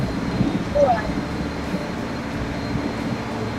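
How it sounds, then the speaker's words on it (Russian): A train pulls into a station in the video game Transport Fever, a low continuous rolling rumble with a brief whistle-like tone early on, moderately loud and steady. "А вот и наш поезд."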